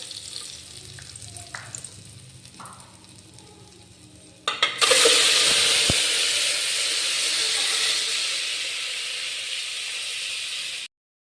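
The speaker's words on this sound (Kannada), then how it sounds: "ಈ ಥರ ಎಗ್ನ ಫ್ರೈ ಮಾಡ್ಕೋಬೇಕು" Eggs dropped into hot oil seasoned with salt and chilli powder, with faint quiet clinks at first, then a sudden loud sizzle that hisses on steadily and close before cutting off abruptly.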